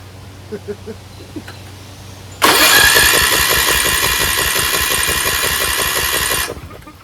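A lawn tractor engine with no compression cranks over on its starter, spinning fast in a loud, rapid, even chugging whir for about four seconds without catching, after a few faint knocks beforehand.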